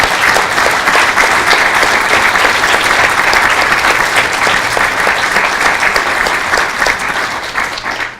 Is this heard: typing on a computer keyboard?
no